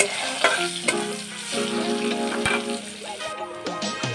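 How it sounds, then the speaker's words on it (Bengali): Chopped onion with nigella seeds frying in hot oil in a pan, stirred steadily, for a pointed gourd dish; a continuous close sizzle with occasional spatula scrapes and a steady tonal hum in the background. "পেঁয়াজটা এরকম লালচে করে ব্রাউন হয়ে ভেজে আসলে"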